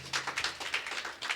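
A congregation gives a brief burst of hand clapping for God during a men's fellowship church service, the claps quick and uneven, heard at moderate distance.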